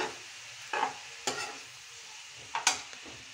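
Cabbage is stirred and mixed in a pan. A few scattered spoon scrapes and clanks sound over a faint, quiet sizzle, with long gaps between the strokes and no voices.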